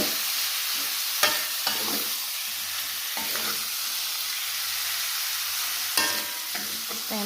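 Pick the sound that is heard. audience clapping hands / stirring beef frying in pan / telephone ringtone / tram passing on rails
stirring beef frying in pan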